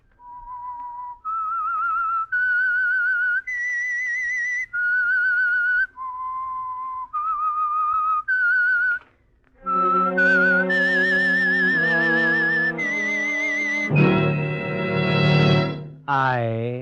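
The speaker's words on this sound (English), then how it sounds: "That whistle is your signal for the Signal Oil Program" A whistled signal tune opening a radio mystery program sponsored by Signal Oil, a clear melodic sequence of held notes, then a fuller, richer phrase in the second half, loud and alone.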